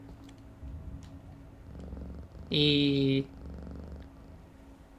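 A pet cat purring close by near a gaming computer, a low steady rumble with a short, loud tonal burst in the middle, while a person speaks briefly.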